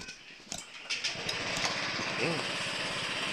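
Honda Click125 scooter engine starting after a no-start fault, brief clicks and cranking leading into a close, steady light engine idle, with a voice speaking briefly.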